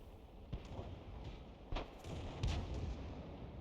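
Artillery gun in World of Tanks firing at a Churchill 7, several sharp booming shots and impacts spread over a few seconds, fairly faint with a low rumble between them.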